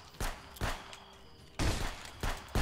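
Sharp gunshots in Contraband Police, a few separate loud blasts spaced irregularly, each with a short decaying tail.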